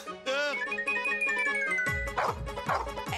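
Dog barking and yipping in a domestic street scene, a few sharp bursts over busy background sound and music, fairly close and loud.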